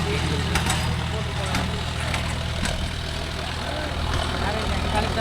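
A new John Deere 5050D Gearpro 4WD tractor engine runs steadily with a low, constant diesel drone, pulling a five-point cultivator in a field, with voices talking over it.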